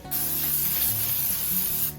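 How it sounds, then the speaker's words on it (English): Cooking spray hissing into a cheesecake pan lined with parchment, one continuous close spray of about two seconds that starts and stops abruptly, with no voices. "take your spray pan, give it a little spray"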